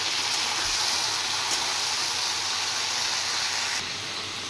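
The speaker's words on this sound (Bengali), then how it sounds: "এবার আমি ঢেঁড়সগুলো ভালো করে ভেজে নেব।" Okra sliced for bhindi sizzles steadily in hot oil seasoned with salt and turmeric, a loud continuous frying hiss close up that eases slightly at the end.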